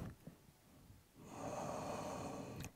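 A person breathes slowly during a yoga pose in a quiet class, with faint soft breath sounds at first, then a longer, louder exhale close to the microphone.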